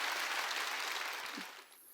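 A church congregation claps steadily during a sermon in a reverberant room, dense and even, then tapers off near the end.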